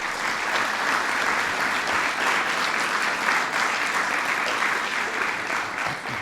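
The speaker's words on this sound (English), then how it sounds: "Please give them a big round of applause." An audience at a National Mentoring Month celebration applauding, dense sustained clapping from a large crowd that holds steady for about six seconds without pause.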